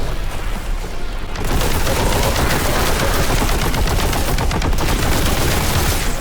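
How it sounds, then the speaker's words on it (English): Heavy bolter gunfire in Warhammer 40,000: Boltgun, a loud rapid stream of heavy shots that starts after a short lead-in and hammers on continuously, dense and close. "You can see why the heavy bolter is a lot of fun."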